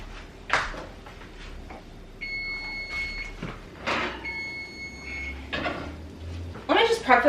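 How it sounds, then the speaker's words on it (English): A kitchen timer goes off with several short steady electronic beeps spread through the stretch, mixed with rustling, clattering and a voice talking between them. "Okay, the timer's about to go off and I'm scared."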